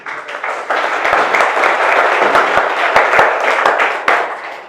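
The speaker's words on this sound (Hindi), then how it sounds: "इन्हीं तालियों की गड़गड़ाहट के साथ में आप स्वागत कीजिए" Audience applause welcoming a guest, a loud burst of many hands clapping with a few sharp individual claps standing out, building quickly and continuing before easing slightly at the end.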